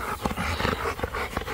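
A dog growls and pants close by in a loud, rough burst of throaty sounds, with no talking over it.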